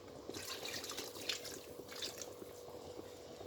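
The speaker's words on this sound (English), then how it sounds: "So right away, I want to be adding water." Water poured into a pot of ogbono soup, a soft steady splashing and trickling that runs quietly throughout, with no talking.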